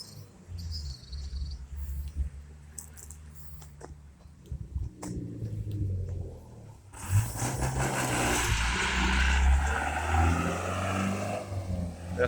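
A truck climbs up from Braggs Hill on a rural road in St. Joseph, Barbados, heard first as a low distant rumble, then growing louder and fuller as it draws near and passes with crickets chirping steadily in the background.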